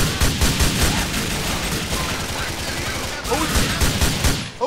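Rapid video game gunfire in GTA 4, dense bursts of loud automatic shots rattling almost continuously with a short lull, close and harsh, with a voice partly mixed in.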